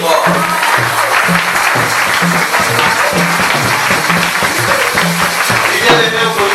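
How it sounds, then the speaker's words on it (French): A church congregation applauds loudly and continuously in a crowded worship hall, steady dense clapping mixed with cheering voices and a rhythmic low musical beat underneath. "nous acclamons très fort"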